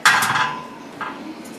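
Pork dropped onto a wire rack set over a foil-lined pan gives a sharp metallic clank, followed by a fainter rattle a moment later.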